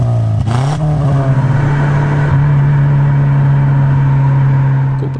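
A Subaru Legacy engine revs up, then settles into a loud, deep droning exhaust rumble that holds steady and close.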